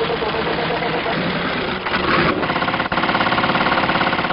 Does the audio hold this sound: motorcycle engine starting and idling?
yes